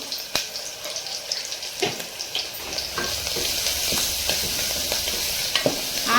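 Onions with turmeric, plus tomatoes, fry for chana masala. A loud, close sizzle runs under repeated scraping strokes of a spoon stirring the pan, with no talking.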